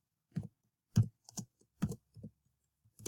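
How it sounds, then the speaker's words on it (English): A computer keyboard is typed on to enter a name, giving a handful of separate, close clicking keystrokes with short silent gaps between them and no voices. "you're going to type your name in here"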